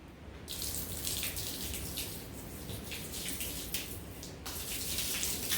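Cleaning solution poured from a jug onto a wet concrete driveway, a continuous close splashing, gurgling pour with a slight pause midway.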